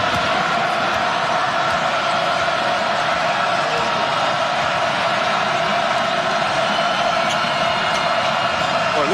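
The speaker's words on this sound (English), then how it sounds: "Well, listen to this crowd." A packed college basketball arena roars continuously during a Virginia Tech versus Duke game, a loud, dense wall of crowd noise and cheering with faint court sounds mixed in.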